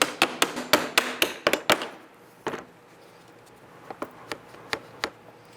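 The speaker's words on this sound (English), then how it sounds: "we'll push that handle down into place and we'll finish tapping that in" Rapid series of sharp taps seating a 2002-2007 Jeep Liberty interior door handle into place, a quick burst of close knocks, then a pause and a few more spaced taps.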